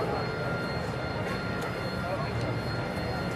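A twin-engine Boeing F/A-18 Super Hornet with GE F414 turbofans on afterburner during a flight display at Farnborough Air Show, a loud continuous jet roar filling the air while an announcer talks.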